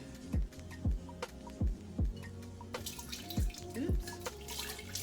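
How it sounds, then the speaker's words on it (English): Pineapple ginger juice poured through a strainer, giving a trickling, splashing stream with repeated gurgling drips falling in an uneven rhythm, fairly quiet and close. "now I'm just gonna strain it. Matter of fact, I probably would do better just pouring it"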